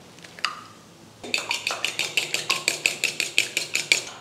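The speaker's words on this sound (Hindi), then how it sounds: "दूसरे बर्तन में अंडे को फेंट लेना है।" Eggs are beaten in a bowl with a utensil, a quick, steady run of clinking strokes against the bowl at roughly four per second, close and clear after a brief quiet start, with no talking.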